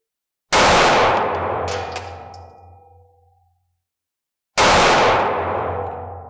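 A 9mm handgun fires two loud shots about four seconds apart, each a sharp crack followed by a long ringing, echoing tail, with no talking.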